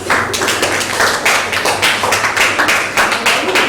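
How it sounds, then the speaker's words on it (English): A classroom of students claps for a classmate after a presentation, loud sharp claps landing in a quick, fairly regular rhythm, close and crisp throughout. "give Kayla a big hand clap"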